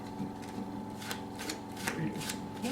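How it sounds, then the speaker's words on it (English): Playing cards are shuffled overhand in quick, regular riffling bursts, close to the listener, with a faint hum underneath. "I start shuffling as what, using an overhand shuffle."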